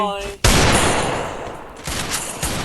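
A sudden loud burst of gunfire in the Free Fire battle royale game cuts in after a brief tone, then continues as a dense sustained rattle with a few renewed bursts near the end.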